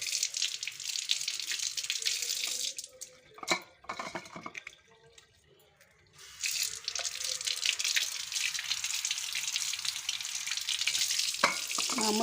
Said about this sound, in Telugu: మామూలుగా రన్నింగ్ వాటర్లో కడిగితే చాలా బాగా క్లీన్ అవుతుంది కదండి.